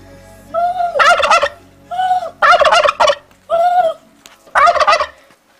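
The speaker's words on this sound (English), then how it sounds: "The sounds of the turkeys." Turkeys in a Zimbabwe village gobble in four loud, rattling bursts spaced about a second apart, each one a quick descending warble, close by with no talking.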